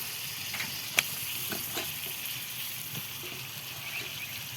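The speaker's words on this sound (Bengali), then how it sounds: "তো মশলাগুলো কষাই নিলাম, মাংস দিয়ে দেবো" Spices sizzle and hiss steadily in a hot pan as they are sautéed before meat goes in, a quiet continuous frying sound with occasional soft stirring clicks.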